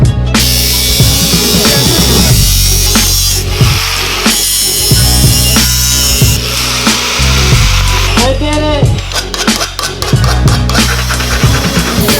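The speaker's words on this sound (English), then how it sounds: "so I cut that intercooler piping" Intercooler piping on a boosted KA24 240SX being cut with a power tool, a loud, harsh, continuous grinding whine that shifts pitch as the blade bites, close up throughout.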